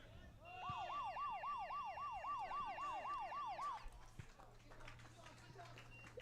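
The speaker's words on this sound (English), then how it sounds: "if you heard the siren on the broadcast, That's that is just the 45 minute." A stadium siren marks the 45-minute point of a UPSL men's soccer match, a loud rising-and-falling wail cycling about ten times for roughly three seconds before cutting off, leaving crowd and field ambience with faint voices.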